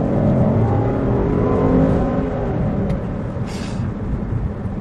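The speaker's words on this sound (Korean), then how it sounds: "엑셀을 길게 한번 밟아볼게요." A Kia Carnival Hi-Limousine van converted to LPG, 3500cc engine, accelerating on a city street, heard from inside as a loud, steady low rumble and whir with road noise, no speech.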